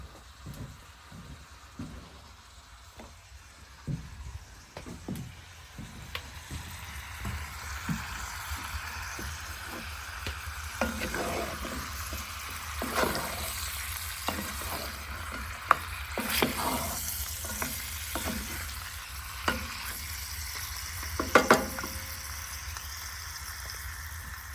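Pork ribs brown in a Dutch oven outdoors, with a steady sizzle and crackle, bursts of stirring and scraping, and the frying growing louder over time.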